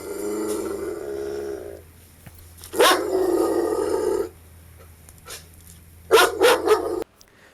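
A Fishguard control unit alarm plays a recorded aggressive dog bark in several loud bursts, a long one followed later by a rapid cluster, over a faint steady electrical hum.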